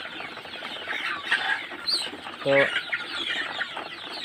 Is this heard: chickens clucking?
yes